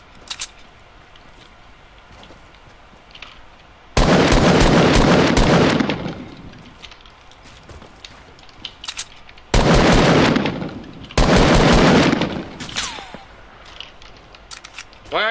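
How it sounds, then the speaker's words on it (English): Gunfire in the video game Fortnite, loud rapid bursts of automatic shooting coming in three separate stretches of a couple of seconds each, with quieter game noise between them. "Why are you shooting at me?"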